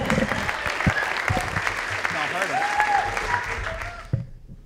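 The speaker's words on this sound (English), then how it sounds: "Keep that applause going for our next poet coming to the stage, Mr. Will Bailey." Audience applause and cheering fill a library slam poetry event, a dense steady clatter of clapping that continues under a host's amplified voice before tapering off at the end.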